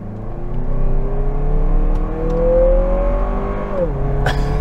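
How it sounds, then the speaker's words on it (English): A 2022 Lexus NX 350 F Sport crossover accelerating hard in Sport Plus mode, its engine note climbing steadily and loudly for several seconds, then dipping sharply at a gear change before pulling again. "Now we're gonna flip it into Sport Plus mode and just let her rip."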